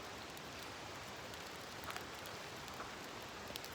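Rain falling outdoors at dusk in nature near a tree, a steady, even hiss of drops with a few faint patters, moderately quiet and continuous, with no voices.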